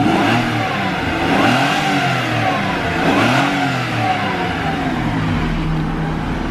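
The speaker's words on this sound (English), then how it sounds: "it took the battery to fire it up, but fire it up, rev it up" A Honda NSX engine, long sitting and fired up on a jump from the battery, revs loudly and continuously up close, its pitch swelling and falling through repeated throttle blips with no talking.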